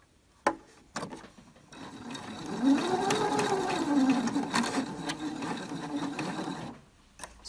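A sewing machine stitching a decorative fabric face mask with elastic: a few sharp clicks, then a steady whirring run of stitches for several seconds that stops, followed by another click.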